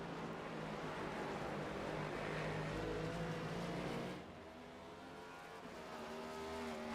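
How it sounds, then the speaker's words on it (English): NASCAR Next Gen race cars racing at Watkins Glen, with a sustained loud engine drone and shifting pitch as cars pass, easing slightly toward the end. "this next gen car is kind of starting to grow on me. I like the way it sounds"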